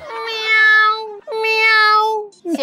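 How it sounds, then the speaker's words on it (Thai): A cat meows twice in long, clear, drawn-out calls, loud and close, with a brief pause between them and no talking. "เสียงแมวฟังอีกครั้งนะ"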